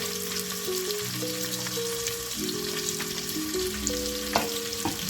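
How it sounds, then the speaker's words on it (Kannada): Chopped onions sizzle in hot oil tempering for tomato bath, a steady dense frying hiss with faint stirring clicks and a soft musical tone running underneath throughout. "ಈರುಳ್ಳಿನ, ಅದನ್ನ ನೀಟಾಗಿ ಒಗ್ಗರಣೆಗೆ ಹಾಕ್ತಾ ಇದ್ದೀನಿ."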